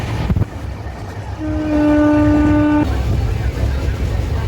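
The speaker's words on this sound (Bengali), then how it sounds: "তুমি ট্রেনে চেপে পড়েছো, বাইরে দেখছো?" A passenger train running between Purulia and Kolkata, heard from on board as a steady rumble, with one sustained horn blast of about a second and a half in the middle.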